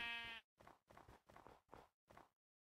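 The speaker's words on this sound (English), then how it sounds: "You're having a conversation with a sheep." Minecraft sheep bleating in a video game, a sustained bleat followed by five shorter bleats in a steady run, clear and close with no talk over them.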